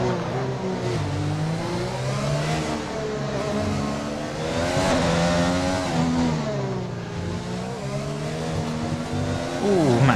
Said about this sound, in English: Matt Debris going for a bit of a drift here in Singapore.